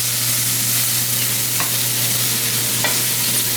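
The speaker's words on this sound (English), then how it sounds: "The sound you can hear in the background is my grill here" Chicken strips sizzle steadily on a hot grill with a constant hiss and a low hum, a couple of faint clicks from cooking mixed in and no voices.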